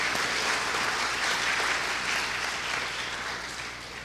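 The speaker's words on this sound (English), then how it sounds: "One big clap for him." A university audience at a UTHM programme applauds Executive Chairman Dato Dr. Yusof Jusoh of Proven Holding: dense, steady clapping from many hands that fills the room and tapers slightly at the end.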